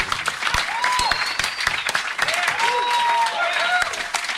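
A live audience at a New York podcast taping applauds comedian Dick Cavett, giving sustained loud clapping with a whistle and voices mixed in throughout.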